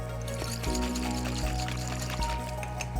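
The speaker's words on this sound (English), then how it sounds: "I put a little bit of water in there" A small amount of water, about a quarter cup, is poured into an emptied glass jar to rinse it, giving a steady, close liquid stream over a low continuous hum.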